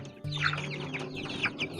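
Free-range village chickens in a rear grow-out pen cluck and chirp steadily at close range, with a low hum running underneath.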